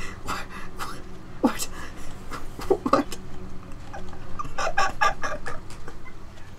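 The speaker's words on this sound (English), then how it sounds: "Hey, I found the chicken." A chicken in a video game clucks and squawks in quick irregular bursts, close and fairly loud, with people talking over it throughout.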